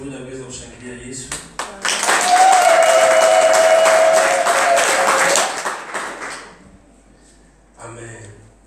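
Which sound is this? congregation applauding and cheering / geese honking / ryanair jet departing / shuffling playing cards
congregation applauding and cheering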